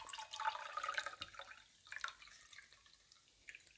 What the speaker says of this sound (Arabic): من بعد ما بردت الوصفه هذه غادي نصفيوها، يعني نصفيو الماء،